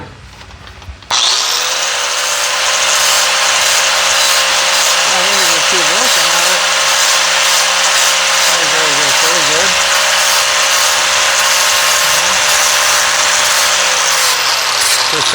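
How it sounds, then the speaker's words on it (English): A power grinder spins up sharply and grinds down a custom-made Corvair oil plug, a loud, steady high whine held throughout with brief pitch dips where the tool bites into the metal. "let's see what we can do here with the grinder, I guess. All right, I started grinding her down."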